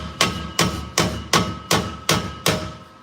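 A hammer taps a freshly welded exhaust pipe on a Ford Ranger in a shop: seven sharp, evenly spaced metallic strikes, each ringing briefly, loud and close with no talk.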